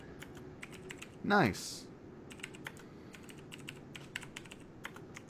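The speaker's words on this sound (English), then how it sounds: "I'm typing out a descriptions of what we're talking about" Rapid clicking of typing on a computer keyboard, close and steady, with a brief spoken word partway through.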